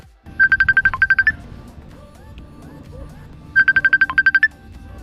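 Mobile phone ringtone for an incoming call, two loud bursts of a bright trilling electronic melody, each about a second long, with a gap of quieter background sound between them.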